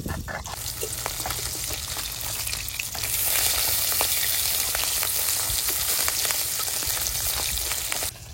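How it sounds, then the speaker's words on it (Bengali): Tangra river fish crisp-frying in hot oil, a close, continuous sizzle with stirring clatter that grows louder and denser partway through. "ট্যাংরা মাছ একটু কড়া ভাজা দেবো, তেল ঝাল করবো তো"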